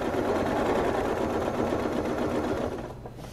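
A sewing machine quilts along a seam guided by a slim ruler, its motor and needle producing a loud, steady, fast rattle that tapers off slightly at the very end.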